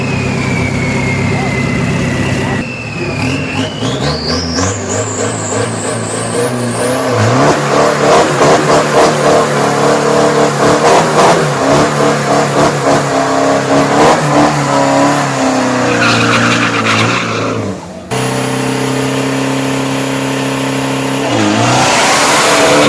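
A turbocharged street car competes in a 201-meter drag race, its engine loud and close, revving hard through rising gear sweeps with brief shifts, over an announcer's voice and crowd noise at the drag event.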